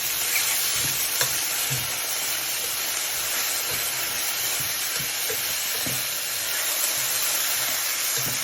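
Tofu and vegetables sizzle and hiss in a hot pan as glaze is added, with steady frying crackle, occasional stirring knocks and no talking.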